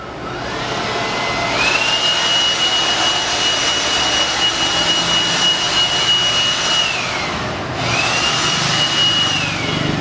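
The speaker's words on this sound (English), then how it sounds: "Don't blow that dust this way." Makita DUB182Z 18V cordless blower blowing dust, a loud steady whine that spins up, holds for several seconds, winds down, then starts again, close by.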